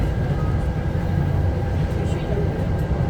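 Inside an Exo commuter train travelling between Dorval and Lucien-L'Allier stations in Montreal, a steady low rumble and rolling drone fill the car, with a voice talking over it.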